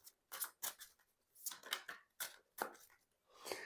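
Tarot card deck being shuffled by hand, a run of quick crisp riffling and slapping bursts in an uneven rhythm, close and fairly quiet, with no voices.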